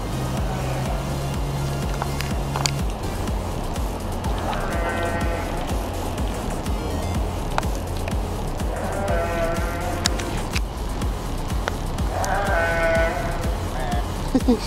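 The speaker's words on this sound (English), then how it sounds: "Sheep sound so depressed." Several sheep bleat intermittently at a distance at the Minnesota State Fair, over constant wind and outdoor rumble, the calls wavering and spaced a few seconds apart.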